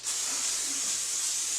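A spray can hisses steadily as it coats a pair of pants, one continuous close spray lasting under two seconds with a faint low rumble beneath.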